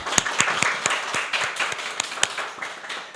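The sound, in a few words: applause encouraging the reading group team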